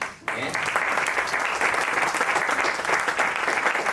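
Applause from a conference audience at an energy transition colloquium breaks out abruptly after a brief quiet moment and continues as an even, sustained clatter of many hands.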